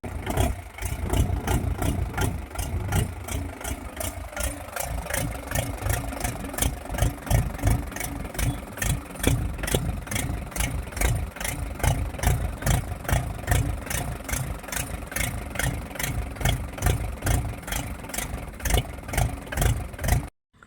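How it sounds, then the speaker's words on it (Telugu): Car engine idling after a piston sleeve replacement, a close, steady rapid ticking and chugging that runs evenly for about twenty seconds before cutting out. "ఇప్పటికైతే ఇంజన్ అయితే స్టార్ట్ అయింది"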